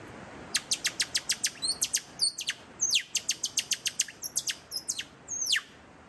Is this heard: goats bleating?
no